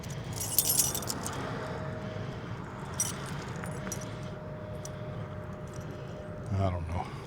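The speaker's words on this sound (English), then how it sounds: "God, I got a million keys here." Metal keys jangle and clink in short bursts close by, with a faint steady hum underneath and a bump of handling noise near the end.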